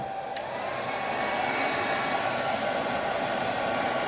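An Arzum AR569 Linda hair dryer blows with a steady, close whooshing hiss and a high motor whine, unchanging for the whole stretch.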